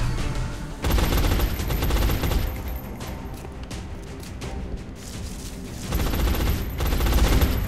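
Video game gunfire in XCOM: Enemy Unknown, dense loud bursts of automatic shots and impacts with a heavy low rumble, continuous for several seconds with a brief lull midway, no talking over it.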